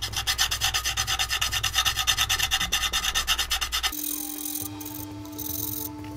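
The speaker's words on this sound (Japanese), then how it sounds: "だいぶ乾いたと思うので、ヤスリがけをしていこうと思います。" Rhythmic back-and-forth rasping of 600-grit sandpaper on dried urushi lacquer over wood, steady strokes close up for about four seconds, then stopping into a quieter room hum.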